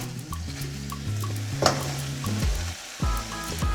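Pork browned in a pan with sliced onion added, frying and being stirred, with scraping utensil strokes and clanks over a steady sizzle, close and alone.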